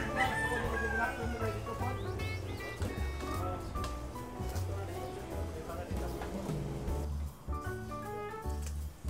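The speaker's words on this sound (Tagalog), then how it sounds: "Dumadami na rin po yung mga native chickens ni Nono Edwin." Native chickens cluck while a rooster crows, set against a busy, layered backdrop with voices present.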